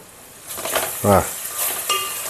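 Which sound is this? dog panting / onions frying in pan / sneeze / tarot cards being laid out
onions frying in pan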